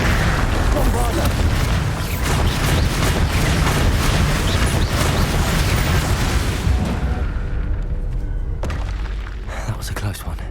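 A loud, booming Bombarda spell explosion in Hogwarts Legacy with crackling, shattering debris that rumbles on and then tails off, under talk.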